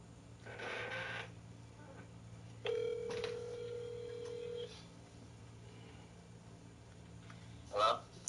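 Telephone tones as a phone call drops: a short burst of noise, then a steady electronic tone lasting about two seconds, followed by a brief chirp near the end over quiet background hiss.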